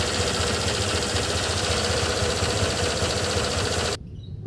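A Honda Click 125 scooter runs with diesel inside its engine, idling with an even, buzzing rattle up close for about four seconds before cutting off abruptly.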